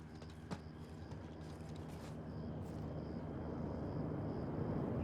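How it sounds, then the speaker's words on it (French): A low, steady helicopter engine drone from Call of Duty: Modern Warfare 2 slowly grows louder as it approaches, with a faint click near the start and no speech. "Un hélicoptère en approche."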